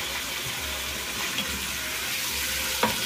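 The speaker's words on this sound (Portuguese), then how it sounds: "Eu vou acrescentar aqui o meu bife de fígado." Beef liver steak sizzles in a pan with browned garlic, a steady close frying crackle with light stirring scrapes and a small clink near the end.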